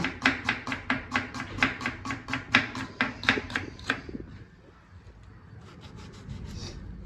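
A knife chops food on a board, about fifteen quick, evenly spaced close thuds in a fast rhythm, then stopping and giving way to quiet kitchen background.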